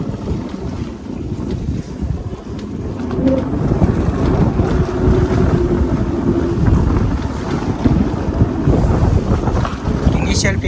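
Heavy wind buffets the microphone while riding an Ola S1 Pro Gen 2 electric scooter in normal mode, a loud continuous roar that builds as speed rises.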